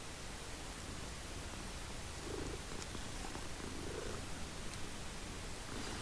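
Soft, steady purring of a cat in Hogwarts Legacy, a low continuous rumble sitting under a constant hiss of background noise, with a few faint brief chirps and no talking.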